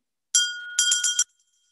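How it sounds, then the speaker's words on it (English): A bell is rung to open a Sunday church service: one bright ringing strike followed by three quick rapid strikes, clear and close, then a faint lingering tone. "We'll begin our service this morning with the ringing of the bell"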